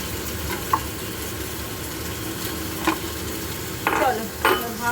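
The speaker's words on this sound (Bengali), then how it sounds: "চলো ভালো করে একটুখানি ভাজাটা নাড়িয়ে নিচ্ছি" Frying vegetables sizzle steadily in a pan while a utensil stirs them, with a few sharp scraping strokes standing out near the end.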